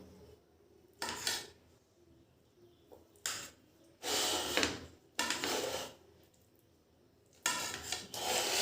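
A knife cuts boiled potatoes into pieces, some of them very soft, in several separate bursts of scraping and clinking against a plate or board, with quiet pauses between the cuts.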